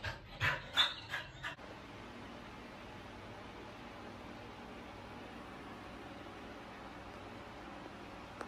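A puppy pants outdoors in a few quick, close breathy bursts at the start, followed by a long stretch of faint background hiss.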